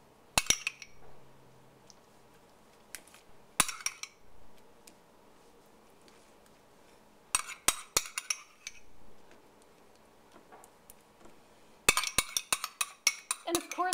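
Spoon clinking against a dish while tomato sauce and toppings go onto a toaster oven personal pizza, scattered bursts of light metallic taps and scrapes separated by quiet gaps, close and soft.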